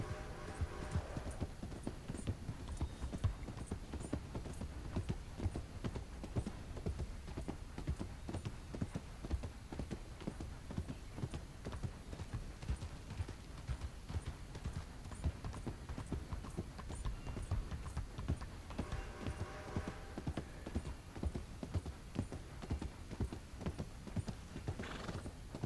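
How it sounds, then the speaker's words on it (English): Steady rhythmic hoofbeats of a galloping horse in Red Dead Redemption 2 continue throughout, with a couple of brief whinnies near the start and toward the end. "Come on, horse."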